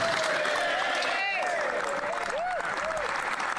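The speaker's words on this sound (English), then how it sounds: "gets a big applause" Dense, steady clapping fills the Canadian House of Commons during Question Period, with brief voices cutting through the applause throughout.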